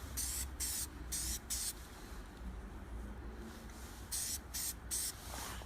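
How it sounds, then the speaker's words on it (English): Oil hisses from a spray can onto a K&N high-flow motorcycle air filter in several short, light bursts with pauses between them, close and fairly quiet, with no talking. "I'm just gonna lightly spray it. Just until it turns a little bit red."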